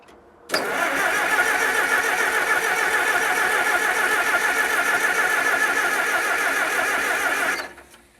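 A Massey Harris 44 tractor, frozen through the winter, starts for the first time in the year. The engine catches abruptly, then runs at a loud, steady idle close by for about seven seconds before cutting off.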